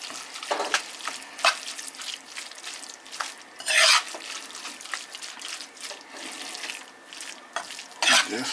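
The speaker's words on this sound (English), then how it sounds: "Just stir it up just like this." Ground beef is stirred together with canned enchilada sauce in a pan, giving soft wet scraping and squelching strokes at irregular intervals, with one louder, harsher scrape in the middle and another near the end.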